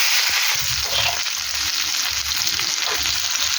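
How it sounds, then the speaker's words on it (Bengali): Capsicum and onion sizzle loudly in hot oil in a pan with cumin seeds, dried chillies and bay leaves, a dense continuous hiss with light stirring scrapes underneath. "ক্যাপসিকাম আর পেঁয়াজটা দিয়ে দিলাম"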